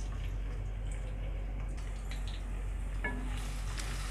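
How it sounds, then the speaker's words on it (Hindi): Chopped garlic fries in hot oil in a kadai with a steady, soft, low sizzle and a few faint clinks from a utensil. "लहसुन को उस वक्त तक फ्राई करेंगे जब इस पर हल्का हल्का गोल्डन कलर आ जाए"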